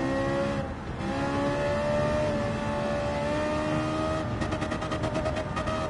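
Simulated Ferrari race car in Gran Turismo 7 on the Monza circuit, its engine droning steadily at high revs throughout, with a brief dip and then a rapid pulsing engine note near the end; no talking.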